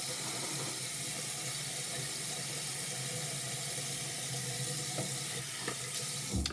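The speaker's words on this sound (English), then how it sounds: "I'm going to re-wet this side so I can get a wet shave going again." Tap water runs steadily from a faucet into a sink during a straight razor shave, a constant close hiss with a few faint knocks near the end and no talking.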